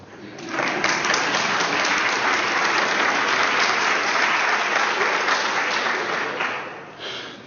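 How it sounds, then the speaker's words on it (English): An audience breaks into sustained applause at an awards ceremony, steady clapping from many hands that swells quickly and fades near the end. "You can clap for me."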